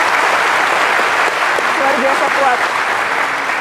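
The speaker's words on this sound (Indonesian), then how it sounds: "Kita kasih tepuk tangan dong untuk teman-teman." Audience applause fills a hall in a steady, even wash that runs the whole time, with a voice speaking briefly over it.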